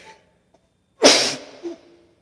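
A single loud, close sneeze bursts out sharply and trails off, followed by a brief small vocal sound.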